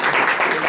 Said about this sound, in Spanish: así que les pido un aplauso para